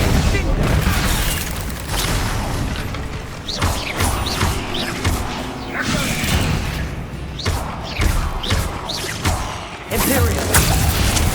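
Bombarda explosion spell cast in the game Hogwarts Legacy on PS5, amid dense, loud combat with repeated blasts, thuds and crashing impacts that barely let up.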